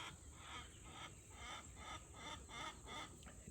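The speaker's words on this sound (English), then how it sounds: "Excuse my chickens, they trying to get my attention." Faint, distant chickens clucking in a loose repeating rhythm of short bursts, quiet against a soft outdoor background.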